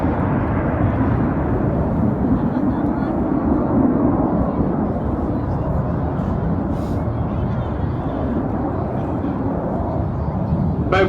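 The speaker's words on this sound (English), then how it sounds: "Both aircraft smoking white position themselves for their next manoeuvre." Jet aircraft of the RAF Red Arrows display team roaring continuously overhead at an airshow, a loud broad wash of engine noise that holds steady throughout with no clear breaks.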